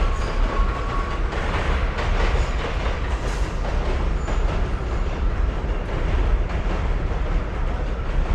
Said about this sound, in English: We got the train pulling out over here.